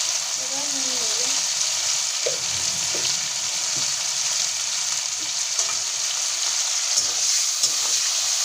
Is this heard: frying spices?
yes